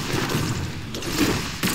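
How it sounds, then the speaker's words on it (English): Gunfire in the fighting game Brawlhalla: a short, loud clatter of shots over a busy game soundscape, with a sharper burst near the end. "the sound of guns is getting annoying"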